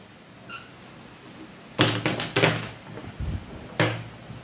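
A molecular model toppling over onto a hard surface, giving a few sharp clattering knocks that die away in separate bursts, with a faint final tap.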